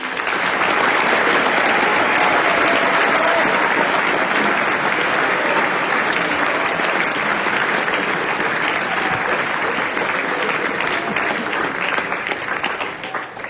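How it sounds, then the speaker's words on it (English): A school commemoration assembly audience gives a warm round of applause, with loud, dense clapping from many hands that holds steady and then begins to taper off near the end. "Let's give them a round of applause."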